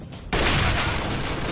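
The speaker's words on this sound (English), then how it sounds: "flashbang." A flashbang grenade in Counter-Strike: Global Offensive goes off in a sudden loud burst that becomes a sustained, harsh, ringing wash of noise.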